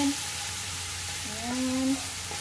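Korean glass noodles (japchae) being stirred in a pan after black sauce is added, giving a steady frying sizzle with soft stirring scrapes, close and continuous, with no talking.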